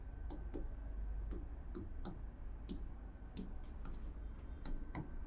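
A pen writes a summary by hand on paper, with quiet, close scratchy strokes repeating in short irregular bursts.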